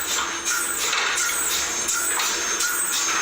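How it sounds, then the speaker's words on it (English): Helium pulses through the tubes of a quantum lab cryogenic refrigerator in a steady, rhythmic hiss, with repeating whooshing surges roughly every half second over a constant broadband rush. "That's the sound of helium pulsing through the fridge tubes"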